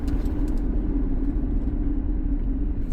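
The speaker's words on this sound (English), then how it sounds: "Classic Chevy truck." A classic Chevy truck engine rumbles with a loud, steady low drone and a constant hum, close by and unbroken for the whole stretch, with no voices over it.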